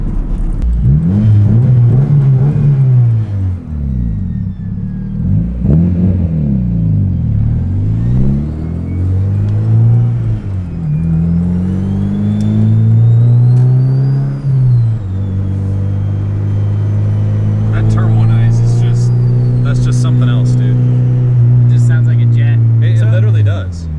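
Turbocharged B16-powered Honda Civic hatch making around 350 hp, driven on the street, its engine droning and swelling through repeated rises and shifts with a steady boosted rumble, while people talk over it.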